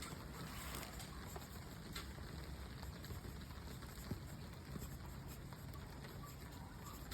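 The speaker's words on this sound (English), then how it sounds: "I would use permanent marker, but because it's raining, I'm just going to use pencil for the exercise." Rain falls steadily outdoors at a building site by brickwork, a continuous even hiss of drops with faint patters throughout, no talking.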